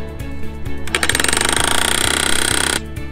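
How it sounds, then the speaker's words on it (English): A post driver pounds 3/4 inch steel rebar into the ground outdoors, a rapid, loud run of metallic hammering blows that lasts about two seconds, heard up close with no speech. "Put the driver on top of this 3/4 inch rebar."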